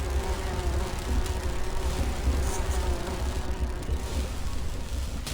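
Bees buzzing in the video game Grim Fandango, a dense continuous drone of many insects heard at close range.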